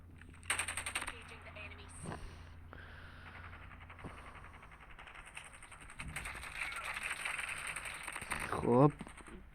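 Bursts of automatic gunfire and single shots crackle through a Call of Duty Mobile battle royale match, some rapid and sharp up close, others thinner and farther off, spread across the whole stretch.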